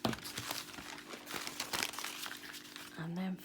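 Junk-journal paper crinkling and tearing close up as scrap paper is cut across an edge, dense rustling bursts mixed with a voice speaking.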